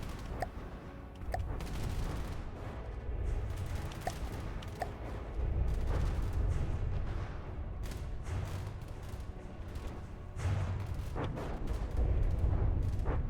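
Bombers dropping bombs in the naval combat game From the Depths, producing repeated deep booms and rumbling explosions of moderate loudness, some sharp reports scattered among them, with no talking.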